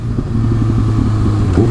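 A motorcycle engine pulls steadily under added throttle as the rider feathers the clutch on the road, a continuous, close, low rumble throughout with no talk.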